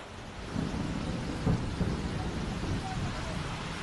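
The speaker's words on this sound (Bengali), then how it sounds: "মুষলধারায় যাকে বলে বৃষ্টি, সেই মুষলধারায় বৃষ্টি হচ্ছে" Heavy monsoon-style downpour after intense heat at Rabindra Sadan, a dense steady hiss of rain with gusty wind and a low thunder rumble swelling midway.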